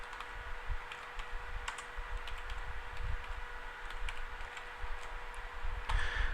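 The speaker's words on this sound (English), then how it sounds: "What we're going to do is go to cell A1 and type the title for our application." Keys tapped on a computer keyboard while entering a title into a spreadsheet, scattered light clicks over a low steady room hum.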